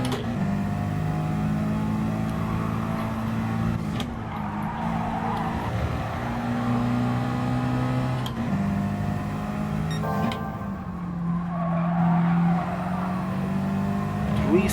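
A 4WD race car in Gran Turismo Sport on PS4, running a GT League 4WD Challenge race, drones continuously at a loud, near engine pitch that shifts with gear changes, and brief tire squeals come through as the car drifts.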